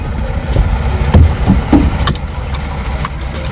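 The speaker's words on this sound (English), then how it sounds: "I'm going to start the engine, build a pressure" A large truck engine idles close by with a deep, steady rumble, a few sharp clicks and knocks popping over the low drone as it builds air brake pressure.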